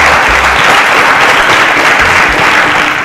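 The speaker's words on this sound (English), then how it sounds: "A round of applause for our contestants" A studio audience at a quiz show applauds the contestants, a loud, full and steady roar of many clapping hands throughout.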